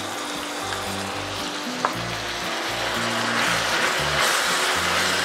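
A vegetable stir fry with sriracha is tossed in a hot pan, giving a loud, continuous sizzle with stirring scrapes and a faint low hum beneath.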